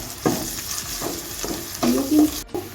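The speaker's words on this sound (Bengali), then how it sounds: "এখন আমি আদা রসুনের পেস্টটা দিয়ে দিচ্ছি দিয়ে এখন ভালো করে একটু কষিয়ে নিচ্ছি" Onion with ginger-garlic paste sautéing in a pan: a close sizzle broken by several rhythmic stirring strokes and a short clatter near the end, with no speech.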